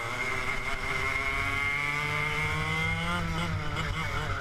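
Racing kart engines rev hard as a pack of Club100 karts runs the A final of a lightweight sprint race at Red Lodge. The loud, continuous whine rises and falls without a break.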